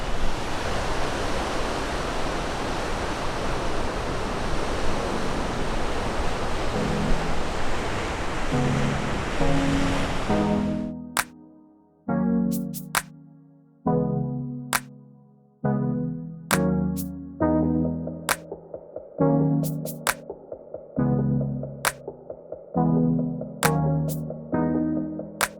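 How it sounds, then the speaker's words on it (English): Big ocean waves below dramatic cliffs at Achada da Cruz, Madeira, roar loudly and continuously for about ten seconds before cutting off abruptly into a series of short, rhythmic tonal bursts. "Very big waves here."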